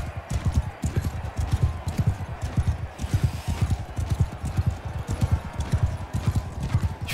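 Horse hooves gallop in the medieval combat game Mount & Blade 2 Bannerlord, a rapid, rhythmic clip-clop of close, heavy beats that continues without pause, with a brief whinny mixed in.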